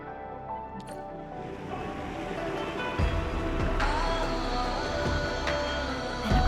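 Powered raft moving through an artificial underground water channel in the Arknights Endfield game, a steady wash of water and churning motor noise with scattered splashes and clunks building toward the end.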